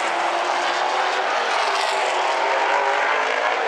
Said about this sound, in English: Donnie Wanted pulls right up onto the rear bumper of Hamilton as they come across the line.